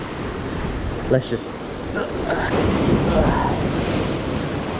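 Ocean waves wash against a rocky, sandy shoreline during shore fishing for lingcod and rockfish, a steady broadband surf roar mixed with wind noise on the microphone, with brief speech near the start.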